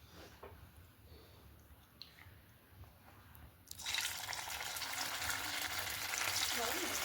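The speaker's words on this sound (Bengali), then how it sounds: "কড়াইয়ে তেল গরম হয়ে গেলে এরপর আমি সয়াবিনটাকে ভেজে তুলে নেব" Soybean chunks hit hot oil in a wok: a few seconds of quiet kitchen ambience, then a sudden loud, steady sizzle of frying that carries on to the end, close up.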